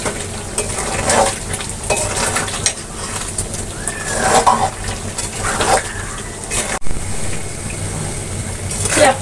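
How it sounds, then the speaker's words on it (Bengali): Meat pickle being stirred as it heats in a pot, with soft scraping and sizzling running in steady bursts throughout, close and moderately loud, while birds coo and chirp in the background. "জল দেব, একটু পরে পরে নেড়ে দিতে হবে।"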